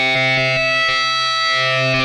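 A buzzy, distorted synthesizer lead plays a bright sustained tone with sharp rhythmic retriggers, loud and close.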